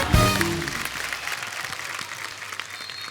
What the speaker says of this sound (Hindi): एक बार अक्षय बाजी के लिए जोरदार तालियां।